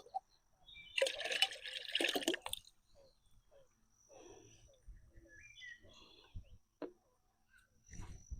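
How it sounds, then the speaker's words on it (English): Yeast water sloshed around in a container in a garden setting, a loud burst of liquid shaking for about two seconds near the start, followed by quieter handling noises and brief speech. "I'm going to give your yeast water a shake because it will fall to the bottom."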